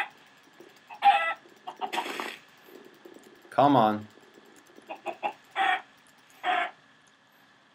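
Chickens in the Minecraft video game cluck in several short bursts, close and fairly loud, with a man's brief speech between them.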